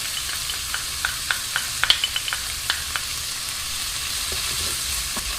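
Garlic fries in a pan with chorizo and white beans over medium heat, a steady close sizzle with light scraping stir clicks scattered on top.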